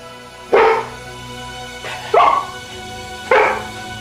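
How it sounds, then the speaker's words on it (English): A dog barks three separate times, sharp and close, with pauses of over a second between the barks over a faint steady background hum. "And finally, the barking started."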